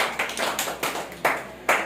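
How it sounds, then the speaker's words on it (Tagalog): A church congregation claps for God during a Filipino religious gathering, a few bursts of hand claps swelling and fading in quick succession, fairly close and moderately loud, with no talking. "Malakas sa palakpak sa ating Diyos sa buhay."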